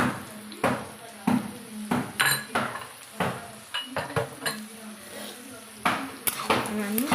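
Spices and garlic frying in a pan for a tomato and fenugreek leaf curry, with repeated metal spoon scrapes and clinks against the pan over a soft sizzle, irregular and close.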